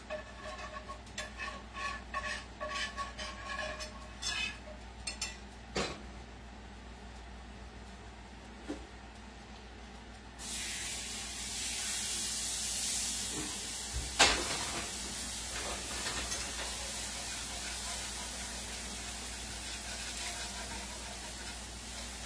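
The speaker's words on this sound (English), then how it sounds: "We're just cooking the rawness out of the flour." Flour browns in a hot pan for gravy, giving a soft, steady sizzle and hiss that starts partway through after a quieter stretch of light stirring and scraping.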